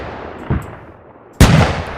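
A vehicle-mounted gun on a World War II armored vehicle fires in Arma 3, a faint report followed by a much louder, sharper blast with a short echoing tail.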